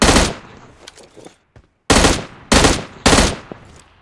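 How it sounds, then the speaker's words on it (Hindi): Gunfire in a squad-based shooter video game, with one burst near the start and then three loud, evenly spaced blasts close to the listener, separated by brief quiet gaps. "क्या सिर्फ शॉटगन है क्या पूरे गेम में सिर्फ शॉटगन"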